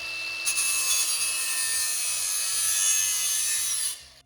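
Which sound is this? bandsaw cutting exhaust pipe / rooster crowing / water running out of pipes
bandsaw cutting exhaust pipe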